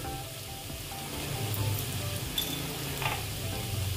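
Ground spices, cumin, turmeric and Kashmiri red chilli powder, frying in a pan for egg curry, giving a steady low sizzle with light stirring scrapes and a couple of brief brighter clinks, no voices.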